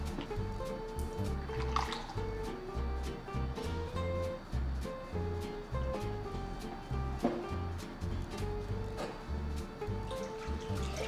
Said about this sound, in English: I'm starting off with just 1 cup of milk, and then I'm gonna add about 1 1/4 cup of heavy cream.